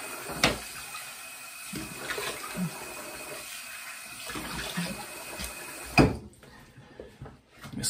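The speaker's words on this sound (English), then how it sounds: "let me rinse up real quick" Water runs from a tap during a rinse after shaving with a Simpson Trafalgar T3 brush and WCS razor, a soft steady splash with a few closer splashes before it cuts off.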